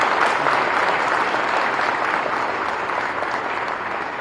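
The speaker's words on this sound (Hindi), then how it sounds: "जोर से ताली हो जाएगी।" Loud, sustained applause from a large seated audience at a public event. The many hands clap evenly for several seconds and fade only slightly toward the end.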